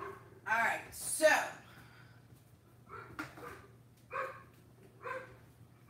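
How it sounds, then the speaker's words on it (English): Several dogs bark and howl in bursts, one starting and others joining in, loud at first then repeating in shorter calls over a low steady hum. "my dog wants to sing, and it sounds like he may be getting the others involved"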